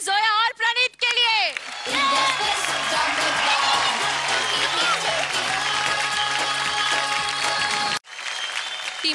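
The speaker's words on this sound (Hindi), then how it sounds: "धमाकेदार तालियां जोया और प्रणीत के लिए." Loud studio audience applause with cheering on a Indian TV drama talent show stage, sustained for several seconds after a short musical sting, briefly cutting out before resuming.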